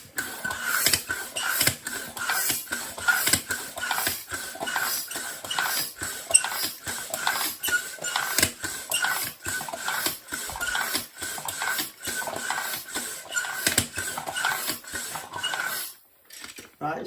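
A foot pump being worked to inflate an air tank for a quiet homemade airline and compressor setup, giving a steady run of rhythmic squeaky strokes and clicks close by, about two per second, before stopping near the end.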